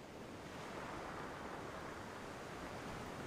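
Steady wash of ocean surf on a white sand beach, a continuous broadband roar with no distinct breaks, fairly quiet and without voices.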